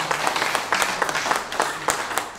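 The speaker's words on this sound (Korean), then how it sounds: "우리 격려와 응원의 박수 한번 크게 했으면 좋겠습니다" Guests at the 22nd anniversary ceremony of the Korean outlet Polinews applaud in a steady, dense wash of clapping from a room full of people, with little voice over it.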